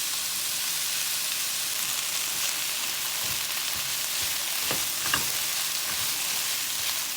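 Vegetables sauté in a pan on medium-high heat, giving a steady hiss of frying with a few soft scraping stirs and clinks partway through, fairly close and with no talking.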